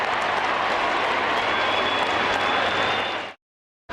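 A large football crowd at Optus Oval roars loudly and steadily after a goal in a 2004 Carlton versus Swans AFL match, a dense wash of cheering and applause that cuts off abruptly near the end.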